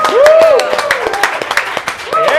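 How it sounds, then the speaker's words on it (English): Rapid clapping from a live TV studio audience, with a voice cheering or whooping over the claps for a couple of seconds. "round of applause"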